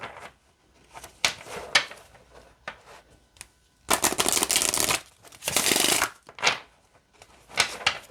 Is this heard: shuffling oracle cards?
yes